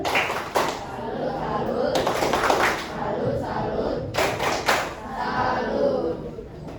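Classroom of students performing the tepuk salut clapping chant, rhythmic bursts of group claps and thuds interleaved with loud chanted voices, several sharp clapping flurries across the routine.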